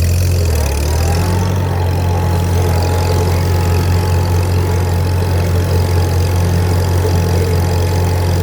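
Farm vehicle engine running steadily at about half throttle, backing up through locust thorns in a rural setting; a loud, continuous low rumble with steady idle-like drone throughout, no talk.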